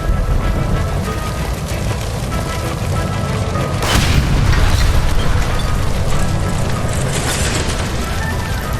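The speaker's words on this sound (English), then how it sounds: "Shoot the gas line, Cole, we're out of here!" A gas line explodes after being shot in the video game L.A. Noire: a loud, deep boom bursts out midway through a dense, steady roar of rumbling noise, then the roar carries on without a pause.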